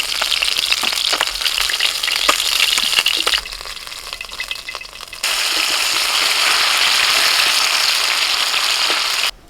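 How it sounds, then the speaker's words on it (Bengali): Tilapia fish frying in hot oil in a home kitchen, a steady loud sizzle that dips briefly mid-way, then surges back broader and louder, with occasional clinks and stirring scrapes. "একই সাথে তেলাপিয়া মাছগুলোকেও ভেজে নিলাম"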